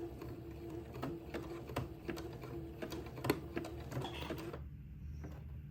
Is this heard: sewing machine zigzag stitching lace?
yes